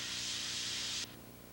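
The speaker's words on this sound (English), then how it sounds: "Take out the flame arrestor element. Clean it with compressed air if necessary." A steady, loud hiss of compressed air blows on a jet ski flame arrestor element for about a second, then cuts off sharply, leaving quieter background noise.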